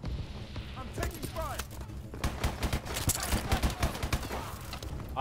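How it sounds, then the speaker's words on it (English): Gunfire in the video game Call of Duty: Advanced Warfare, rapid repeated shots and bursts of automatic fire mixed with other game effects, with someone talking over the action. "His own teammate shooting at me"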